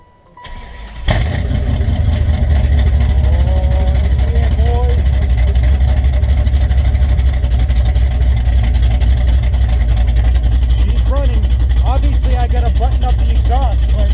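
A car that has sat unused for months cranks and catches about a second in, then idles loudly and steadily close by, with a few faint voices over the engine.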